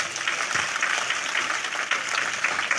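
A church congregation applauds together in a dense, steady wave of clapping that fills the whole stretch at an even, fairly loud level, with no voices standing out.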